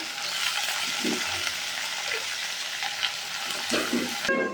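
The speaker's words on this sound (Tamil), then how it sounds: "அந்த முட்டைக்கோஸை இதிலே போட்டு நல்லா வணக்கி விட்டுக்கலாம்" Cabbage sizzles steadily in a hot pan as it is stirred, with soft scraping and clinks of a utensil against the metal.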